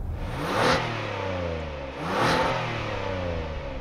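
A 2023 Hyundai Palisade's engine and exhaust, heard from outside, rise in two smooth revs over a steady running hum, each swelling and easing back down.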